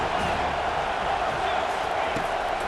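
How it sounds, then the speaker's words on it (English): A stadium crowd in College Football 25 roars steadily on a third down, a dense continuous wall of noise with no breaks. "Decibels rising as the crowd gets behind this defense on 3rd down"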